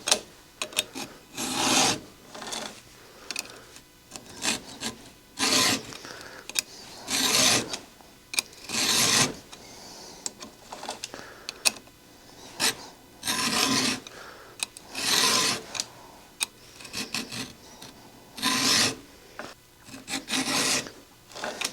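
A file run through a guide along the chain of a Stihl 026 chainsaw, steady rasping strokes repeating roughly once a second, close and loud with brief pauses between strokes.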